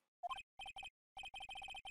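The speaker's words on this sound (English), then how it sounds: "the phone began to ring" A phone ringtone in the Ace Attorney: Justice For All video game plays as a short rising chirp, then rapid repeated electronic beeps in quick bursts, clear and alone.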